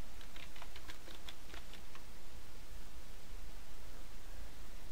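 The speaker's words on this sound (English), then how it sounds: "Type in your search word," Keys tapped on a computer keyboard while entering a search word into Microsoft Word 2010, a quick burst of close, light clicks in the first half, then only steady background hiss.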